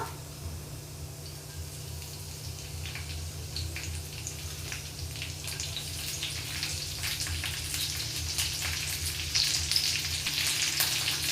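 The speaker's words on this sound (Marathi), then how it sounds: "तेल तापलं की आपण आधी हिरवी मिरची घालूया" Green chilies fry in hot oil in a pan, giving a steady, close sizzle with scattered pops and crackles that grows slightly busier toward the end, with no voices.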